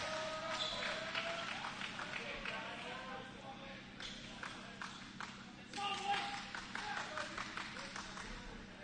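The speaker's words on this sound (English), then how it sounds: "You can hear Dryden probably on the microphone, clapping it up, making some noise" Rhythmic hand clapping picked up on a microphone at a volleyball match, repeated claps in quick runs over crowd and court noise, with voices talking in the background.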